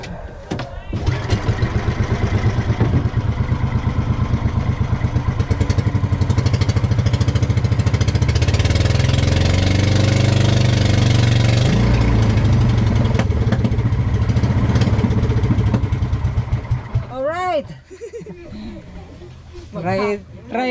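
A fishing boat's engine runs loud and close with a rapid, steady chugging for about seventeen seconds, then cuts out, and voices talk afterwards.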